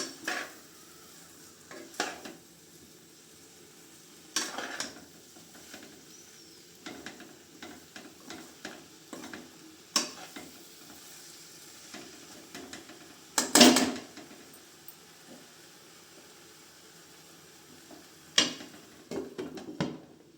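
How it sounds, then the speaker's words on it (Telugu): Spoon working a mixture around a cooking pot, with scattered scrapes and clinks against the metal over a quiet background and one sharper knock partway through. "అన్నీ కలుసుకునేలా బాగా కలుపుకోవాలి"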